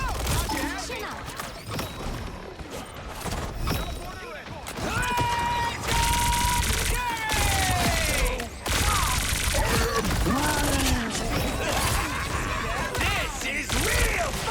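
Gunfire in Marvel Rivals: rapid bursts of shots and crashing impacts layered with game effects, loud and continuous through most of the stretch, with voices talking over the action.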